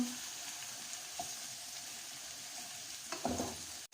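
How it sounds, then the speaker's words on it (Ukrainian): Potatoes and carrots frying in a pan, with a soft, steady sizzle and occasional scraping stirs, ending in a short clatter. "Перемішую картоплю з морквою вже."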